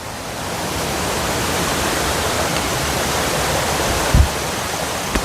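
A waterfall and flowing stream in the Dandakaranya forest, fed from the Karregutta hills, roar as a steady, loud broadband rush with no voices, broken only by a brief thump near the end.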